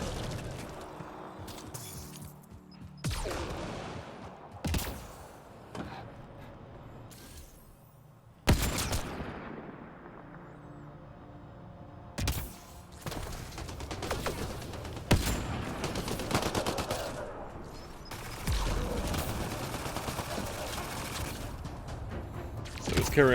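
Gunfire in the video game Mass Effect: Andromeda comes as irregular bursts of sharp shots and crashes, some loud and close, broken by quieter stretches of faint mechanical noise.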